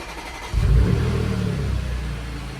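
An Audi S5 with a dual-clutch transmission starting up, a short crank catching into a loud, close engine flare that settles to a steady idle rumble.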